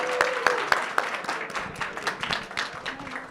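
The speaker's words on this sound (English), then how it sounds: "So big round of applause for everyone." Applause from an audience at a startup weekend's final presentations, honouring participants and judges; scattered claps start sharply and build into a moderate, fairly close burst of clapping with faint voices underneath.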